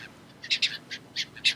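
Seagull calls in the survival game Stranded Deep: a quick series of sharp, bright squawks in irregular bursts, close and clear over a quiet background.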